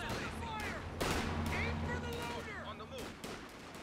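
Battle noise in Company of Heroes during a 3v3 match on Port of Hamburg: repeated sharp gunshots and booming impacts at irregular intervals, with a player talking throughout.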